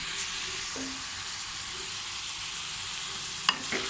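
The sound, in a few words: stirring spices and salt into frying okra masala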